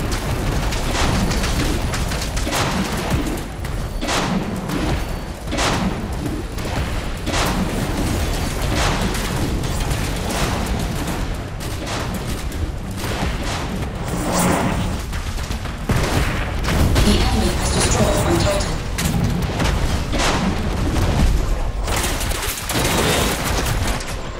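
Video game battle audio with a continuous barrage of booming explosions and gunfire-like blasts as an enemy defensive wall is destroyed, loud and dense for the whole stretch with no pauses.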